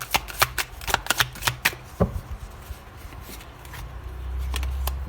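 Oracle cards being shuffled by hand, a rapid run of crisp riffling slaps that slows to a few scattered flicks and settles into a soft rustle, close and clear with no talk.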